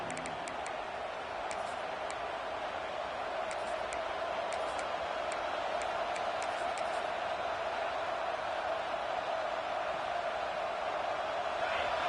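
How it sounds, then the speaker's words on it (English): Steady crowd roar fills a football stadium during a game, a constant wash of many voices with faint scattered ticks above it, no single voice standing out. "This crowd bringing the energy and noise early."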